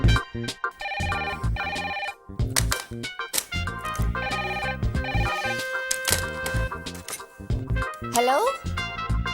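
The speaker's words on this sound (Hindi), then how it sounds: "ये फोन भी ना कभी कभी बहुत तंग करते हैं।" Telephone ringing amid a comedy scene: repeated bright electronic ring bursts mixed with lively background music and effects, fairly loud, while people talk over it.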